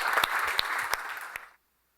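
A hackathon audience gives a steady round of applause for the hackers, moderately close, with a few sharper claps standing out before it stops abruptly after about a second and a half.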